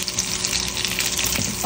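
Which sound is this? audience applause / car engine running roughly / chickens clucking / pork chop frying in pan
pork chop frying in pan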